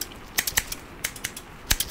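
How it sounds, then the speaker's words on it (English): Scissors snip in a close, quiet ASMR setting: a string of crisp, light clicks in an irregular rhythm, alone with no voice. "Just ignore the sound of the scissors, if you would like."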